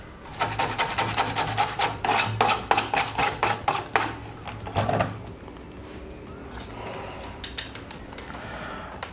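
Cleanup of an electronic circuit board after desoldering: fast, close rubbing and brushing strokes form a dense scrubbing rhythm for several seconds, then ease off into quieter scattered scratches, with no voice.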